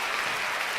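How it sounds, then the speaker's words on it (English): A brief burst of dense applause plays as a sound effect during a livestream, a steady wash of many hands clapping at even loudness. "Let me get my applause."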